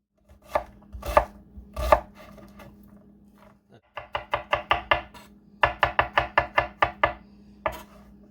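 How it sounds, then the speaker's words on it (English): Knife chopping onions and garlic on a cutting board, a few spaced heavy chops and then rapid bursts of crisp, evenly rhythmic cuts, close and loud with no talk. "We'll cut up some onions and some garlic"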